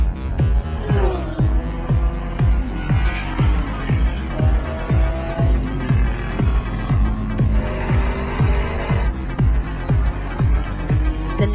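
Spec Miata race cars idle on the starting grid at a NASA California Crown race, their engines blipping again and again in loud, close revs that fall away after each burst.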